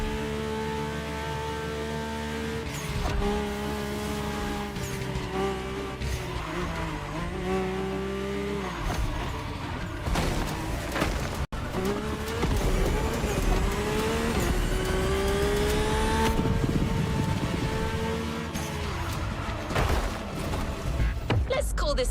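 A Mercedes-AMG One hypercar being driven in The Crew Motorfest, its engine droning and rising through gear changes with occasional tire squeal, loud and continuous from start to finish, with a voice talking over it.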